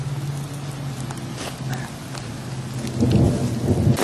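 Heavy mid-August rain pours steadily over a woodland with resurrection ferns, with a dull rumble of thunder swelling near the end; no voices.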